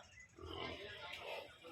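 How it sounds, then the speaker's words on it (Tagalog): Native pig at a rural farm in Sariaya, Quezon, grunting in rough low bursts close by, with other voices mixing in over the animal. "May native na baboy dito."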